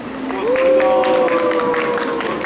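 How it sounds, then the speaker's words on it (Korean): A crowd at an outdoor candlelight rally claps in a broad wash of applause, with a sustained voice or tone running over it. "박수 한번 부탁드립니다."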